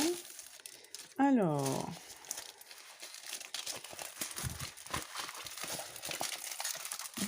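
Clear plastic packaging from a diamond painting kit crinkles and rustles close up in scattered bursts while someone speaks French over it.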